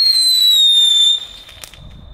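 Aldi consumer fireworks going off: a loud shrill whistling screamer tone held for about a second, slowly falling in pitch, then cutting out into faint crackles and a small pop.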